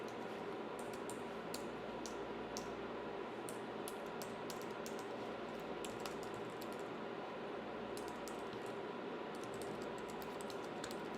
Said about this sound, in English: now you're just going to type in your personal information